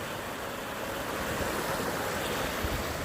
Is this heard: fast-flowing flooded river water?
yes